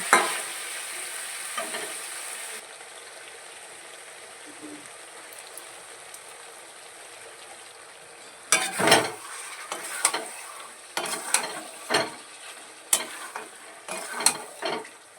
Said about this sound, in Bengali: পরের দিনকে রান্না করে ফেললাম চিকেন কষা কষা চিকেন যেটা বাবা ভালোবাসে